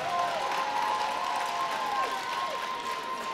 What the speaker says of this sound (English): how about a round of applause for Team Edna?